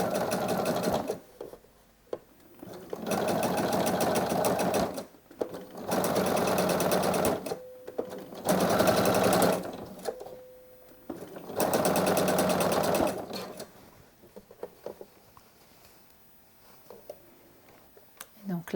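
A sewing machine stitches a zip onto a skirt in several steady whirring bursts, each lasting a couple of seconds and separated by short pauses. The machine is close and clear, with a brief faint voice in one of the gaps.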